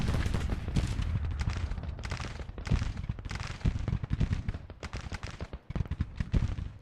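Musket volleys crackle in dense, overlapping bursts across a Civil War battlefield in Grand Tactician during the Battle of Nashville, a continuous rolling fusillade of rifle fire with no pauses.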